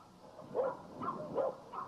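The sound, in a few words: dogs barking at a farm in Pennsylvania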